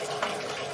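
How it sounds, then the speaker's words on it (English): Water is poured steadily into a concrete biosand filter, giving a continuous splashing rush with a brief brighter splash. "now we're going to add some water"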